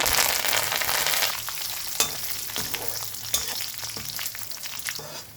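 Curry leaves hit hot oil with a loud, close sizzling burst that gradually settles into steady frying crackle, punctuated by a few sharp spatters or spoon taps, with no talking.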